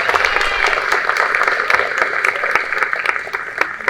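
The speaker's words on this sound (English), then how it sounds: "A big round of applause for Eric." An audience at a San Antonio aviation department ceremony honoring the Tuskegee Airmen breaks into loud, dense, continuous applause with sharp individual claps standing out. The clapping lasts several seconds, with a little talk underneath.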